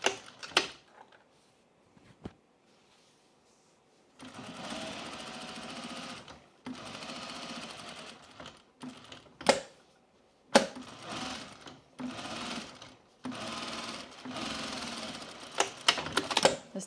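A sewing machine stitching down a jeans pocket runs in several close bursts of rapid mechanical whirring, separated by pauses and sharp clicks from handling the fabric and machine.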